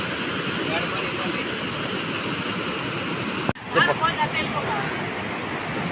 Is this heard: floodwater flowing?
yes